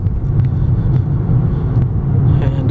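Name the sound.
2022 Ford Maverick Lariat driving on twisty roads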